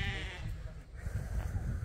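Cameroon sheep on a small visitor micro-farm give a short, wavering bleat at the start. It is fairly faint, followed by low rustling and handling noises in the pen.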